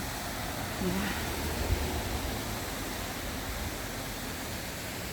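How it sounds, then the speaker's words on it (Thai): A small waterfall of water flowing down from the mountain near an old village: a steady, broad rushing hiss, constant and moderately loud, with a faint brief voice and a thump underneath. "น้ำไหลลงมาจากเขานะคะเป็น น้ำตกเล็ก ๆ"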